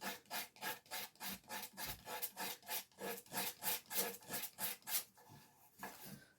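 A wooden propeller is shaped by hand with 120 grit sandpaper and no sanding block. Rhythmic back-and-forth rasping strokes repeat about twice a second, close and fairly quiet, and slow near the end.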